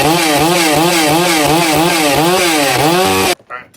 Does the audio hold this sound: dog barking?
no